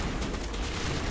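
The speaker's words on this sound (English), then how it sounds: "Who else is shooting?" Gunfire in Mass Effect Legendary Edition comes as a dense, continuous rumble of overlapping shots and booms, steady and loud throughout with no clear gaps between them.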